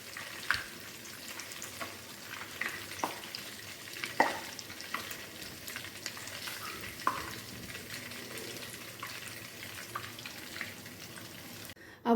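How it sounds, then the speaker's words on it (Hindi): Dum kababs fry over a high flame in a pan of oil, giving a steady, quiet sizzle with occasional soft pops and crackles throughout, close up and with no voices. "हाई फ्लेम पे मैंने फ्राई किया हुआ है"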